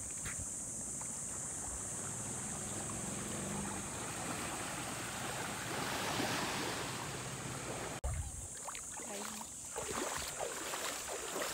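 Sea waves washing onto the shore of Cagbalete Island at low tide on an overcast morning, a steady broad surf roar with a sharp break partway through and wind noise throughout.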